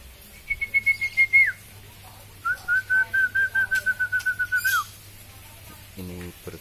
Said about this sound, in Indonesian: Semua burung murai batu itu bagus semua ya.